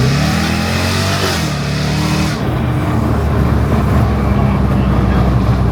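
A Jaguar F-Type with a custom exhaust revs hard close by, a loud, rasping engine roar that builds, briefly dips, then keeps blaring.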